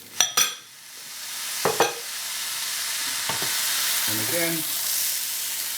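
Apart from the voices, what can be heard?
peas being stirred and sizzling in pan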